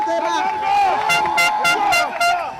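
A crowd at a freedom march in The Hague cheers and calls out together in rhythmic bursts of voices, loud and close, with no single speaker standing out.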